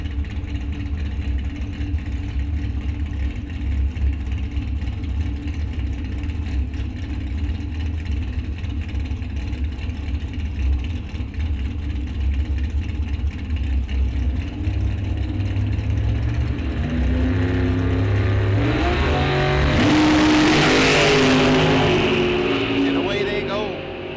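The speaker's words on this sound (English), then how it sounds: "Corbin Corolla in control, gets the win on the double breakout" Drag race cars at Rock Falls Raceway during a bracket series: a droning engine rumble builds to a loud launch roar near the end, with a commentator talking over it.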